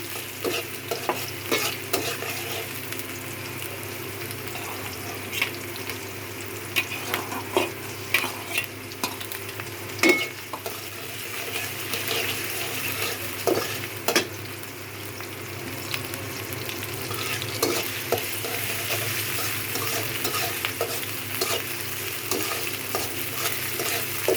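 Prawns and okra fry in oil in a pan, a steady close sizzle with frequent scraping stirs and occasional clinks of a spoon, continuous and alone without speech.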